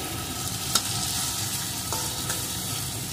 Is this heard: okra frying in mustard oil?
yes